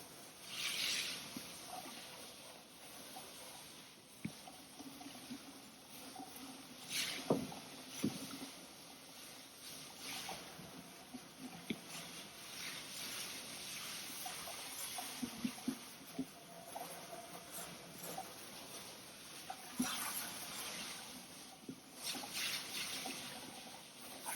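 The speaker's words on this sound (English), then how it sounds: "I'm going to wash out our reservoir here of any sediment and debris." Water splashes and trickles while a Tom-Cat carbon floor scrubber's reservoir is rinsed out of sediment and debris, with irregular sloshing and dribbling that comes up close in bursts against a quiet, hissy background.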